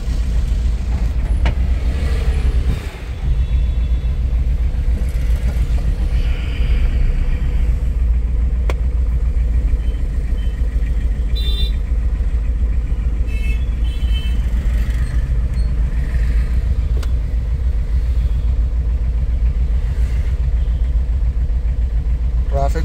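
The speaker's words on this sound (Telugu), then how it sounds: "ట్రాఫిక్ మస్తు ఉంది ఇక్కడ" Heavy road traffic at the Jubilee Check Post junction, with cars including a Lamborghini and a BMW nearby: a steady, loud rumble of engines and passing vehicles fills the whole stretch, with brief higher tones and a voice now and then.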